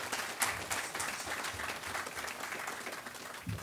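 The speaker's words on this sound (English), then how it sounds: "One more round of applause, please," An outdoor audience at the groundbreaking ceremony for Denny Crum Hall applauds Coach Crum with a steady, moderately loud round of clapping that carries on for several seconds.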